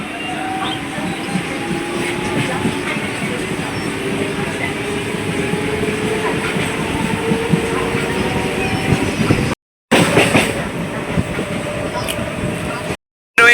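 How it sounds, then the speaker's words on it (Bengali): A passenger train runs on the Tarakeswar line with a loud, steady rumble of wheels and carriage rattle heard from on board, briefly cut out twice near the end. "ট্রেন কিন্তু ছুটে চলেছে সুন্দরভাবে এবং টাইমলি"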